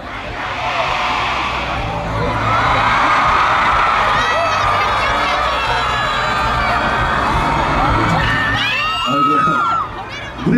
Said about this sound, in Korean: 여러분들 다같이 짜릿하게 외치면서 소리 한번 지르는 걸로 해보겠습니다